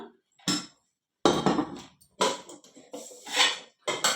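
Chili, salt and garlic being crushed by hand, heard as a string of uneven, close knocking and grinding strikes with brief pauses between bursts, and no talking.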